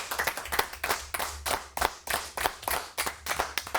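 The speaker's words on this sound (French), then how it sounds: "On applaudit David Letard." Studio audience claps for a guest on a French daily show, sharp distinct handclaps in a quick uneven rhythm, close and loud, with a strong low hum beneath and no talking.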